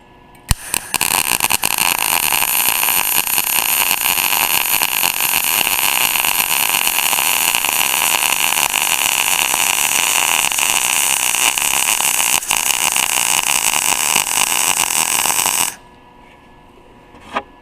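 A MIG welder lays a bead with too much shielding gas, giving a steady, loud, close crackling hiss that runs nearly unbroken for about fifteen seconds before cutting off into near silence.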